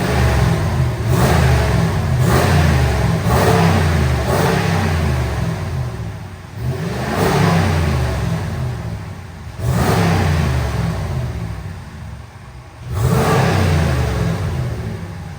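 The engine of a bone-stock RAM 1500 with a 5.7 HEMI V8 and factory dual-tip exhaust, running close by while it warms up. Its deep rumble rises in repeated revs every few seconds and falls back to a steady idle between them.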